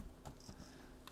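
A few quiet keystrokes on a computer keyboard, faint and brief, heard alone in a quiet room.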